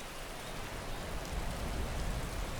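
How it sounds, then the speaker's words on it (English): Steady rainfall in the village of Riverwood in the video game Skyrim VR, an even soft hiss of drops with a low rumble building slightly toward the end, faint and alone with no talk. "And there's rain."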